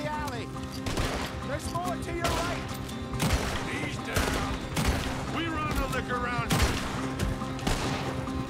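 Repeated volleys of gunfire crack out in Red Dead Redemption 2, bursts of several shots spaced every second or so, with shouting voices and a music score underneath.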